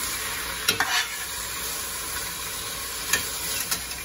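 Poblano pepper strips frying in a pan under a steady sizzling hiss, with a few sharp scrapes and knocks of stirring spaced apart, close and unvoiced.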